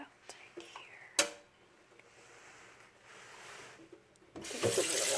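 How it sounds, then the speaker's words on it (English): Water is poured out of a container into a sink, a soft splashing stream that swells louder toward the end after a sharp knock and light handling noises. "Let's just pour this out here."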